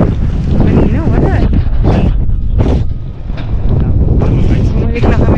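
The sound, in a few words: wind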